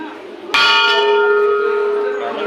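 A single temple bell at Konark temple struck once, ringing out loud and close with a bright metallic tone that sustains and slowly fades, over faint background murmur.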